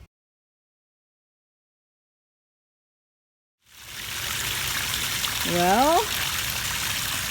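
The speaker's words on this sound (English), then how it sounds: "Look at the waterfall." Water pouring down a small DIY fish pond waterfall at night, a steady close splashing trickle that starts abruptly after silence, with a brief spoken word over it.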